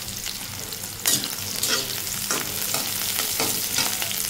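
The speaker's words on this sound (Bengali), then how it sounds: "আমি মরিচ একটু বেশি করে ভেজে নিচ্ছি অন্য কিছুর জন্য" Chillies frying in a pan for a fish curry, a steady close sizzle with bursts of spattering and stirring scrapes throughout, no voices.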